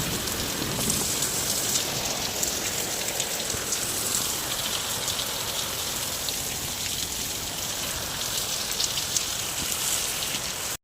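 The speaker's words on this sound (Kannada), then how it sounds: "ನಮ್ಮ ಊರಲ್ಲಿ ಎಷ್ಟು ಚಂದ ಮಳೆ ಬರ್ತಾ ಇದೆ ನೋಡಿ" Steady rain falls in a village, a dense, continuous hiss of drops on surfaces at even loudness throughout, with no voices.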